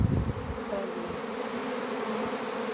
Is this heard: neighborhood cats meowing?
no